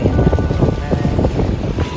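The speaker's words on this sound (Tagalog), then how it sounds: "Yung hangin malakas na kaya ayan." Strong wind buffets a paraw sailboat under sail off Boracay at sunset, a steady loud roar of gusts and rushing water filling the whole stretch with no letup.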